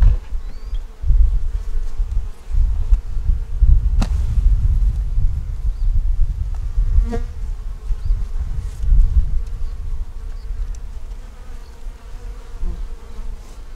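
Honey bees buzz steadily around an open nuc hive during an inspection, a dense continuous drone close by, with the occasional louder bee passing near.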